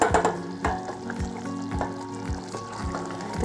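Pumpkin and chickpea curry simmers and sizzles in a pan, a steady soft bubbling crackle with occasional stirring clunks, close by and without talk.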